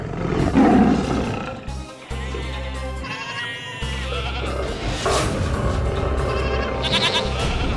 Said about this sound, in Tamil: புலியோட சத்தம் மட்டும் தான் கேக்குது ஆனா அது கண்ணில் பட மாட்டேங்குதே